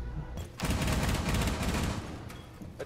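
Rapid automatic gunfire in Rainbow Six Siege bursts out after a short pause, a dense loud volley lasting about a second and a half before trailing off.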